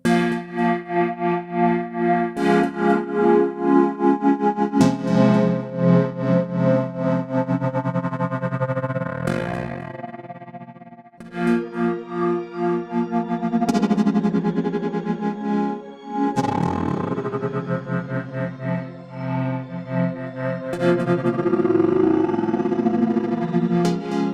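Sustained bass notes through a Warm Audio Ringerbringer ring modulator pedal with reverb, a metallic, clangorous tone swelling and washing out into reverb between phrases, no voices.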